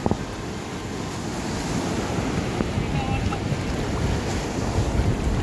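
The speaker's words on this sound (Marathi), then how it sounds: "ही खाडी आहे आणि हा इथे समुद्र आहे" Sea waves wash and churn steadily at a creek mouth where it meets the open sea, with strong wind buffeting the microphone throughout and no speech.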